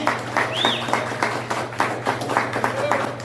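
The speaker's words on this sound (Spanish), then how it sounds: "dale ese aplauso fuerte al Señor" A church congregation claps loudly during a Spanish-language sermon, bursts of clapping mixed with cheering voices over a low steady hum.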